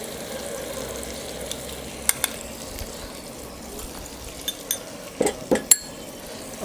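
Chili powder, coriander powder and other masala sautéing in a pan for Tamil crab curry, a soft steady sizzle with a spoon clinking and scraping against the pan, the clatter growing busier toward the end.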